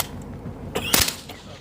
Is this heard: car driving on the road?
no